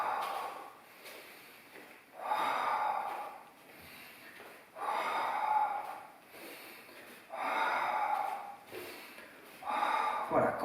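Rhythmic yoga breathing, with slow audible inhales and exhales alternating about every two seconds, close and soft, repeating several cycles.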